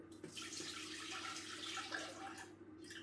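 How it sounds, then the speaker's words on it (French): Broth is poured back into a Thermomix bowl, a steady liquid splashing and trickling for about three seconds, fairly faint and with no talk over it. "je vais donc utiliser ce jus que je vais replacer dans le bol"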